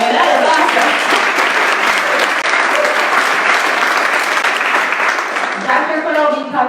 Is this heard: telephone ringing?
no